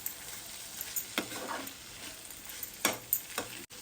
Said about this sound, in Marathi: आता ही अशी परतायची जरा परतून घ्यायची भारंगीची भाजी